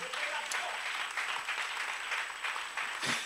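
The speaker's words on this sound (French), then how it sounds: "Nous acclamons le Seigneur" A church congregation claps to acclaim the Lord, steady diffuse applause from many hands filling the room at moderate distance, with no one speaking over it.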